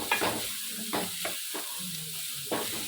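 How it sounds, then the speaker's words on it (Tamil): Chopped beetroot sautés in a pan with green chili and garlic, giving a soft steady sizzle broken by a few distinct stirring scrapes, close and fairly quiet, with no talk. "அப்புறமா அது கூடவே நம்ம நறுக்கி வச்ச பீட்ரூட்டை எடுத்து போட்டு வதக்கணும்."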